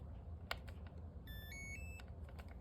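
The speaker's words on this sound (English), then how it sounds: "just connected as those beeps you heard" A Skyviper drone gives a short rising series of electronic beeps as its single-cell battery is plugged in, quiet and close over faint clicks and low background hum.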